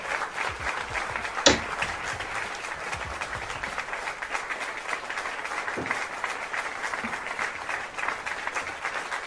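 A crowd at a live comedy-style show applauds steadily throughout, a dense continuous wash of clapping with an occasional louder hoot or clatter.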